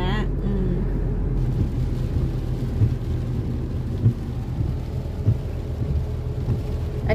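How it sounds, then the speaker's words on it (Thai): Rain falling around a manual-transmission car driving on a main road, a steady dense wash of noise with low road rumble and a few soft thumps throughout. "อันนี้เจอฝนตกด้วย"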